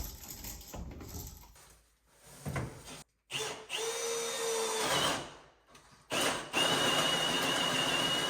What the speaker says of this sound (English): drill a hole up above, get it through, and then feed our wire back down